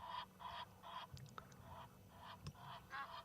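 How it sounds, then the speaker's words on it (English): Egyptian geese on an African game reserve give a rhythmic run of loud, nasal honks in regular bursts, with a few sharper calls and clicks between them, close and prominent. "those Egyptian geese want the spotlight. They are being very loud."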